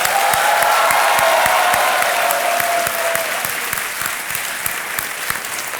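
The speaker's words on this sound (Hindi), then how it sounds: "तालियां बजती रहे देवियों सज्जनों" Studio audience applause fills the Kaun Banega Crorepati set, loud, dense and steady, with a faint cheer near the start, easing slightly toward the end.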